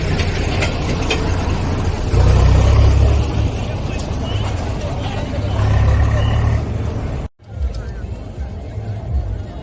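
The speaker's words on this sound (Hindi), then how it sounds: "गाड़ी आ रही है।" A vehicle rumbles close by along a road at the Maha Kumbh gathering, its engine swelling loud twice amid crowd noise and chatter before a sudden cutoff.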